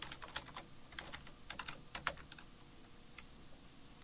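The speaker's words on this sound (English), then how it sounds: "And I'll type in a chapter called" Quiet computer keyboard typing, a light, irregular patter of close keystrokes in short bursts with no talking.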